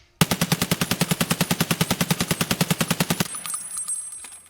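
A P90 fires a long, steady full-auto burst in the video game Escape From Tarkov, roughly thirty loud, evenly spaced shots, then stops abruptly and leaves a faint ringing tail, with no talking.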